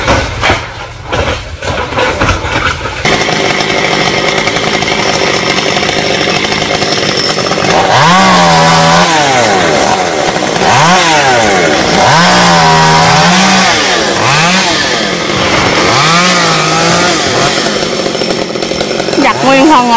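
A chainsaw cuts down a star apple tree heavy with fruit, working close and loud. The engine roars steadily, then rises and falls in repeated revving surges as it bites through branches, with voices early on.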